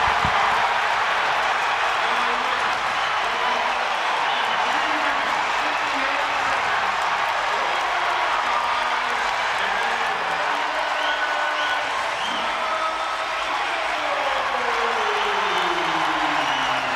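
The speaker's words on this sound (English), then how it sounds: "this crowd goes crazy for McCrone" Arena crowd at a Big Ten college wrestling match cheers, claps and whoops steadily for a home wrestler, a dense sustained roar with a commentator talking over it.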